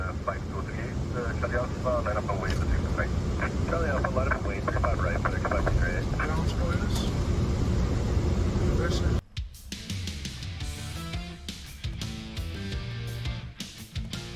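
An aircraft lands through haze with a loud, steady engine roar under a talking voice. Partway through, the sound cuts to a quieter, lighter engine hum.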